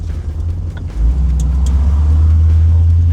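A car engine idles with a deep, steady rumble that swells slightly after a second, then holds a constant low drone, close by.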